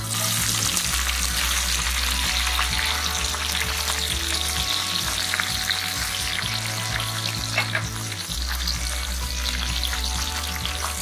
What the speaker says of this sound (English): Once mustard seeds and cumin seeds flutter, add the bhindis to it.